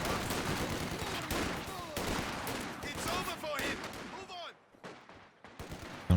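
Bursts of suppressing gunfire in a Company of Heroes 2 match, dense overlapping shots and battle noise filling most of the stretch before thinning out briefly near the end.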